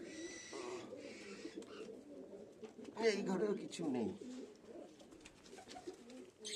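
Pigeons of Giribaz and Fantail breeds coo in a home loft, soft throaty calls repeating close by while a person speaks briefly over them.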